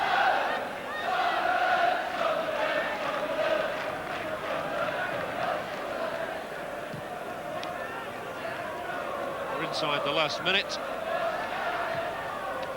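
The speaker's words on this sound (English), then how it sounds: "You hear a cheer go up from the Liverpool contingent who've come northeast this afternoon." Liverpool supporters in the away section at Sunderland raise a cheer in the closing minute of a 1982 football match, a broad crowd roar running steadily beneath a commentator's voice, with a brief whistle-like burst near the end.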